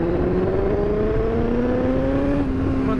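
Suzuki GSX-R1000R motorcycle engine revving steadily after a gear drop, a continuous loud whine rising slowly in pitch for about three seconds with a brief dip near the end.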